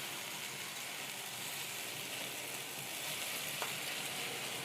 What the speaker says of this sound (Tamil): நல்லா இந்த மாதிரி கோல்டன் ப்ரௌனாக நல்லா 4 பக்கமும் நல்லா அதை நம்ம பொரிச்சிக்கணும்